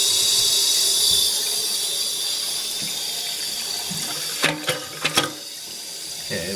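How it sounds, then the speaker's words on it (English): Water rushes steadily as a newly replaced toilet's bowl fills, a constant hissing flow, with a few short clunks and knocks near the end. "Water's going in the bowl."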